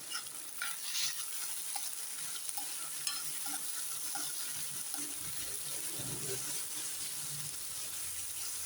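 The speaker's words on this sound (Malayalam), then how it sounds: "ഉപ്പ് കൊടുത്ത് ഇനി നമുക്ക് ഇത് ഇളക്കാം" Salted chicken is stirred in a cooking pan, a soft steady sizzle with faint scraping and clinks from the spoon, fairly quiet throughout.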